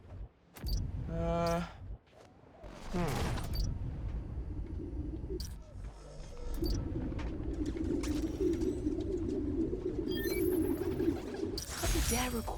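Pigeons cooing in a park in Spider-Man: Miles Morales, several low throaty coos layered into a steady group murmur under background game sounds and a voice.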